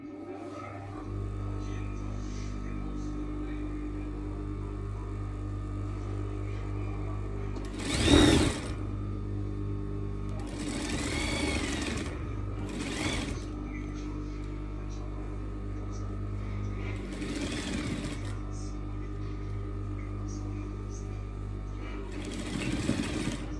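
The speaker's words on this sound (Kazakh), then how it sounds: "Енді осыны басынан бастап тігіп аламыз." A sewing machine stitches a small 75 by 75 cm patchwork quilt, running in steady bursts with brief pauses and a few sharp clunks, with close, moderately loud mechanical whirring throughout.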